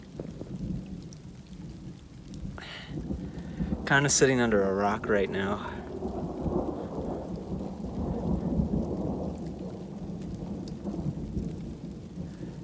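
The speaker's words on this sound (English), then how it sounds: "lots of thunder and lightning" Rain falls steadily near the top of Mount Sanitas during a mountain thunderstorm while low thunder rumbles and rolls underneath; a person speaks briefly over the storm in the middle.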